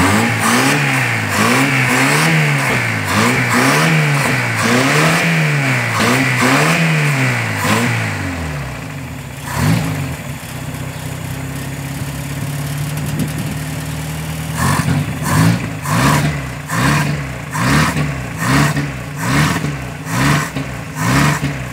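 A mid-size engine starts and revs in rhythmic pulses, dips to a rough idle, then is blipped repeatedly again, loud and close, with no talk.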